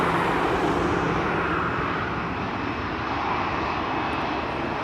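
An airliner departs from a runway at Amsterdam Schiphol, its jet engines producing a loud, steady broadband roar that holds continuously throughout, close by near the runway threshold.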